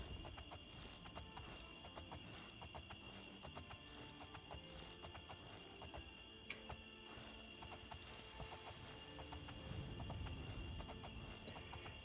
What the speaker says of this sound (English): You couldn't ride horses in Morrowind.